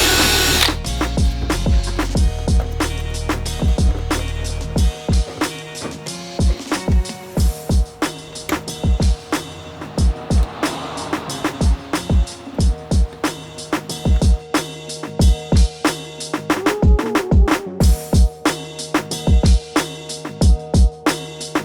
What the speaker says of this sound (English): You drill a couple holes and then they just screw right in.